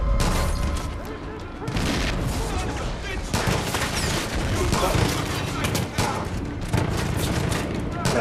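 Rapid, loud bursts of automatic gunfire from the video game Far Cry 5 crack and boom repeatedly, near and sustained across the whole stretch with only short gaps between volleys.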